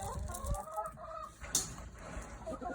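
Hens cluck softly inside a backyard coop as they settle in to roost, with a few scattered short calls and one sharper squawk partway through, fairly quiet and close.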